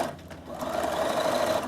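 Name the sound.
sewing machine doing a straight stitch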